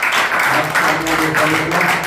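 A church congregation applauds in a dense, steady wash of claps with a faint rhythmic pulse, mixed with voices and singing underneath.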